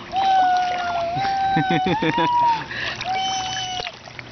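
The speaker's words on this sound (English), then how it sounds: "Do you want to splash for the camera?" A child splashing water in a swimming pool on a first visit, with bursts of close splashing and sloshing mixed with excited voices of adults and the child.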